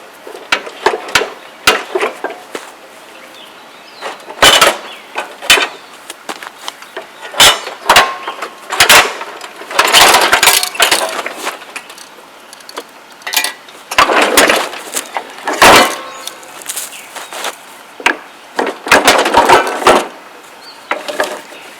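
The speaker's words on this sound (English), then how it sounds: "get a hold of the deck and slide it out from under the lawnmower" A mower deck is slid out from under a Cub Cadet LT1045 lawn tractor, giving irregular loud metallic bangs, scrapes and clunks spread over about twenty seconds, with quieter gaps between the knocks.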